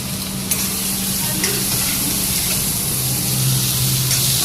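Cumin, asafoetida and black pepper tempering in hot oil, a loud, steady sizzling hiss with a low background hum and faint scrapes throughout.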